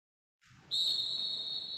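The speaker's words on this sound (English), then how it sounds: "when the coach whistle, the players will leave the ball" A coach's whistle at futsal training gives one loud, sustained shrill blast that holds steady to the end, after a short soft rustle.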